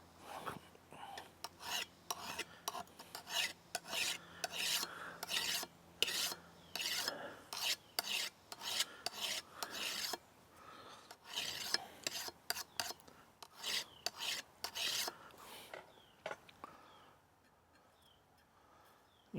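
A file rasps in short, rhythmic strokes across the edge of a garden hoe blade to knock off a burr, close and crisp with brief pauses between bursts, tapering off near the end.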